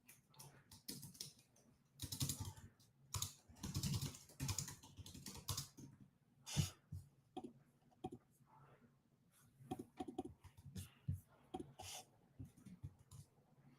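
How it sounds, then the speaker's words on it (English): Clicking and tapping at a computer desk during game development work, soft, irregular bursts of mouse clicks and key taps close by, quiet throughout. "All I hear are mouse clicks"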